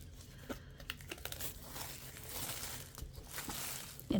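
Plastic wrapping is peeled and crumpled off a canvas for a quilted canvas craft, giving soft crinkling and rustling at close range with scattered small taps and crackles and no talking.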